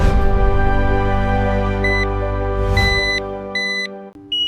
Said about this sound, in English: When testing, make sure everyone in the home recognizes the alarm sound.